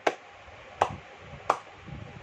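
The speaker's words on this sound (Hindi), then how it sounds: "यूं तालियां बजाते हैं" Three distinct hand claps, crisp and fairly close, spaced roughly three quarters of a second apart, with quiet background murmur between them.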